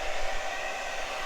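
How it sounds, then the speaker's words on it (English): A hair dryer blows continuously while drying paint on a canvas, a steady airy whoosh with a motor hum, close by and unbroken. "if you don't want to use a hair dryer to dry your paint on your canvas"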